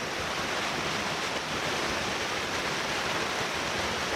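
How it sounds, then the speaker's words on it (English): Loud, continuous rushing water roars without pause, a dense, steady wash of noise heard at the base of Fallingwater Cascades waterfall on the Blue Ridge Parkway. "The water's pretty loud right here."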